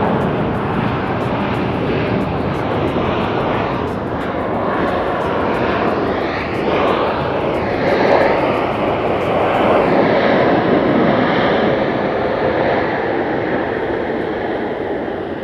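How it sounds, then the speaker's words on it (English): A Boeing 787-8 airliner applies reverse thrust after landing at Haneda airport, a loud sustained jet roar that swells and holds for many seconds, heard from a distance, with no talking. "Listening to a reverse thrust from, in this particular case, a 788."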